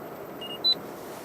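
Two short electronic beeps from a camera, a soft tone followed by a higher, louder one, over faint background noise.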